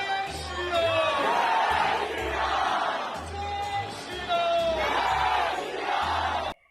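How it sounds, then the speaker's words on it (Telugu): Thousands of people on Howrah Bridge chant Jai Shri Ram together, a loud massed roar of voices rising and falling in repeated waves of chanting. "హౌరా బ్రిడ్జ్ పై వేలాది మంది జనం జై శ్రీరామ్ అనే నినాదంతో"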